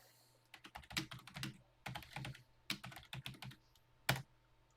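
Keystrokes on a TI-99/4A home computer keyboard entering a TI BASIC program, coming in quick uneven bursts of clicks with short pauses, close and fairly quiet, with no talking.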